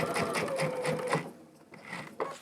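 Sewing machine with a walking foot stitching in the ditch on a quilt, running in a steady rapid buzz for about a second, then a brief pause and a few softer stitches, close and alone.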